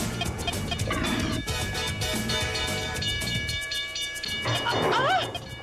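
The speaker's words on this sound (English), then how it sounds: "I bet that train has a role in this." A train rumbles past loudly and continuously, its rolling clatter filling the scene, with a rising squeal near the end.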